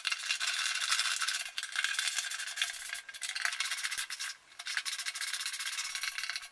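Nuts are tightened to fix a go-kart shifter cable to the frame, a close, bright ratcheting and rubbing scrape in repeated bursts with short pauses between strokes.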